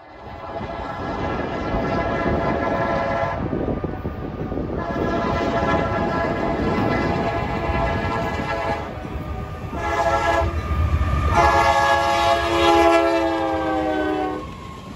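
CSX M581, a massive northbound freight led by GE CM44AC and ET44AH locomotives, passing loudly at Harper Siding near Winder, Georgia, with a sustained blaring horn that sounds in long chords over the continuous roar and rumble of the train.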